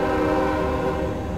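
A Norfolk Southern northbound freight train passes close by in the small hours of the morning, a steady loud rumble with a sustained horn blast held throughout.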